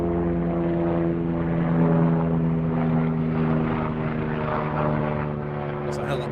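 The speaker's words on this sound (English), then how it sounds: "That's a helicopter, my bad." Continuous loud rotor and engine drone of a helicopter passing overhead, steady throughout with a slight swell in the middle, no other sounds on top.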